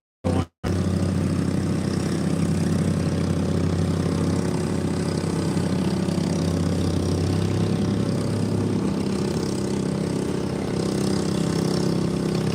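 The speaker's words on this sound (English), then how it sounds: "We got a tractor going." A garden tractor engine runs steadily at a benefit tractor pull in an Ohio valley, a loud continuous mid-pitched drone that holds for the whole stretch after a brief cut at the start.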